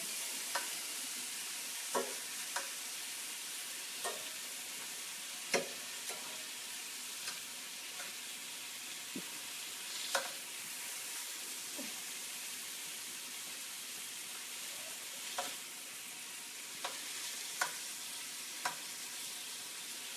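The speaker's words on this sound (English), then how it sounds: "So, I'm browning my Braciole." Rolled braciole browns in a pan with a soft, constant sizzle. Scattered sharp clicks and light scrapes of stirring run through the sizzle, and nobody speaks.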